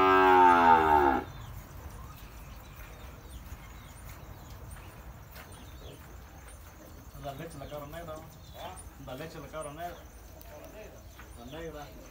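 A cow on a dairy farm, a speckled cow with a calf, gives one loud, close moo at the start, followed by people talking over faint insect chirping.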